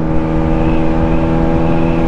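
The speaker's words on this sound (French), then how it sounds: "la sonorité de la ligne Arrow est relativement intéressante" A 2012 Aprilia RS 125 motorcycle engine with an Arrow exhaust fitted with a baffle holds a steady, close, buzzing drone, loud and even throughout, with no voices.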